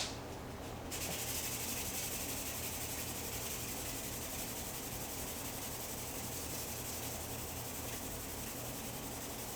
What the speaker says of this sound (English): So I'm using this sanding pad so that it's flat.